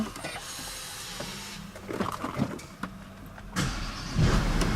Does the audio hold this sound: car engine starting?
yes